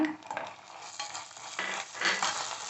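Chopped onions frying in a pan with a spoonful of garlic-ginger paste while cooking black pepper chicken, giving a steady soft sizzle with occasional scraping stirs of a spoon against the pan.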